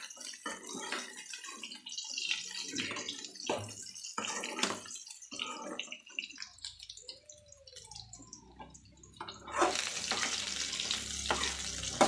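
Bitter gourd fries in plain oil in a pan while being stirred, a soft steady sizzle broken by scraping strokes, with a louder hissing surge near the end.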